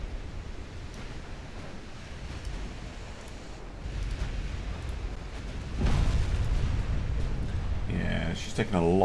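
Torpedo hits explode against a French dreadnought in a naval warship game, a heavy, continuous rumbling roar that swells into a deeper, louder surge midway and stays loud to the end.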